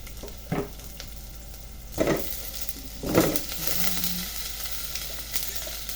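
Chicken frying in a pot, a steady sizzle under several scraping stirs that come and go at an even pace, close and moderately loud, with no voices.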